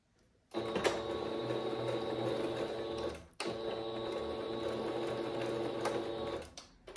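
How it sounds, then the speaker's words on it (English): A sewing machine runs a straight stitch on fabric for a DIY grip or chalk bag. It makes two steady, close runs of rapid mechanical whirring with a brief pause between them, then stops. "So I'm gonna start off with a straight stitch."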